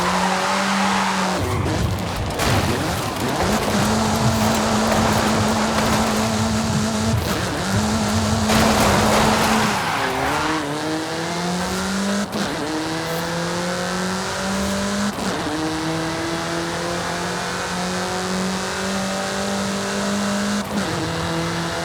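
Race car in the Forza Horizon 5 driving game, its engine revving and climbing through gear shifts while tires squeal through corners, loud and continuous throughout with no talking.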